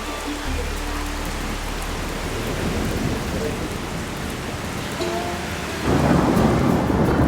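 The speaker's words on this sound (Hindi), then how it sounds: "बहुत तेज थंडरिंग हो रही है भाई, भयंकर वाला माहौल।" Heavy thunder rumbles continuously over steady loud rain on a mountain road, with a deep low roar throughout and the downpour growing louder near the end; no voices.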